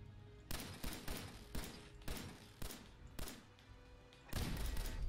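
Gunshots in Fallout 4, a steady string of about eight evenly spaced reports with short decays, fairly quiet, ending in a louder sustained burst.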